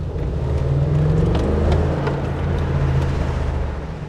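A Mercedes-Benz G550 G-Class engine hums steadily nearby, a deep sustained drone that swells slightly in the middle, with no talk over it.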